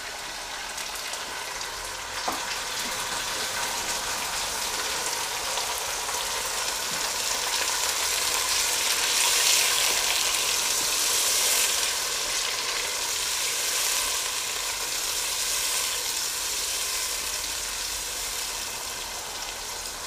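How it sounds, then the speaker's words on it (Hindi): Chicken frying in a pan with browned onion and garlic-ginger paste gives a continuous soft, hissing sizzle, steady and moderately faint throughout with a few small clinks. "इसे थोड़ा सा फ्राई करते हैं 2 से 3 मिनट के लिए, चिकन का कलर चेंज हो जाए।"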